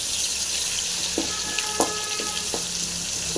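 Crushed garlic frying in hot oil with popped mustard seeds for a bitter gourd dish, giving a steady bright sizzle with a few soft knocks and stirring taps.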